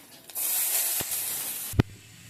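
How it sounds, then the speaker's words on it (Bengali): Nigella seeds, green and dried chillies and whole garlic cloves hit hot mustard oil in a kadai, bursting into a loud, steady sizzling hiss that runs about a second and a half before one sharp spit and a quieter tail. "এগুলো তেলে একটু ভেজে নেব।"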